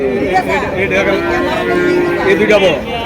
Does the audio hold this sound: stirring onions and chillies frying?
no